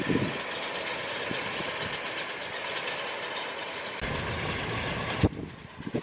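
A homemade wind turbine built from an e-bike drivetrain runs in a low gear in roughly 18–19 mph wind, its chain and sprockets giving a continuous rattling whir mixed with gusty wind noise throughout.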